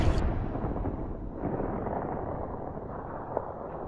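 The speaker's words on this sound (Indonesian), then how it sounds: "hanya dengan satu kali tembakan jarak jauh, pria tersebut berhasil dilumpuhkan" A long-range sniper rifle shot in a war combat film opens as one sharp, loud burst, then fades into a steady low rumble.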